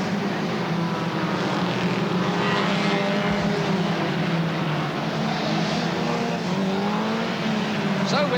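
Saloon stock cars from 1983 racing on a track, their engines a loud, continuous droning roar with shifting tones as several cars pass, and faint commentary beneath.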